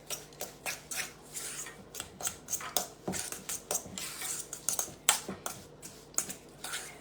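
Keto pumpkin cake batter is mixed in a bowl in a home kitchen, with irregular light clicks and scrapes of a utensil against the bowl, quiet and close, with no talking.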